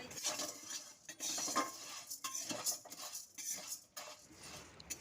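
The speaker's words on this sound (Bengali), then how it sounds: "এখন গ্যাসের ফ্লেমটা মিডিয়ামে রেখেই কিন্তু সাবুগুলোকে একটু ভেজে নিচ্ছি" A spoon scrapes and stirs sago pearls through a pan over a medium gas flame in uneven bursts, with a light sizzle of frying underneath and occasional metallic clinks.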